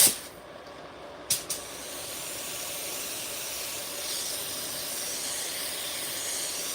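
A spray gun lays down gold paint for old-school candy and lace ribbon patterns, letting out a continuous airy hiss after a couple of sharp clicks at the start.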